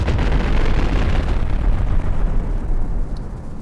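A video game battleship turret being pounded by HE and incendiary shells, heard as a loud, dense rumble of overlapping explosions and booms that fades slightly toward the end.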